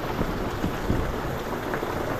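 Steady rain falls in a dense, even hiss with scattered drops tapping close by and no break.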